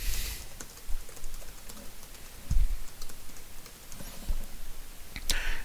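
Keys tapping on a computer keyboard as a name is typed, a quiet, close run of light clicks with a few louder strikes, unaccompanied by speech.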